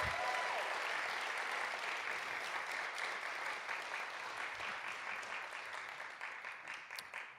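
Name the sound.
audience round of applause for Dr. Cottom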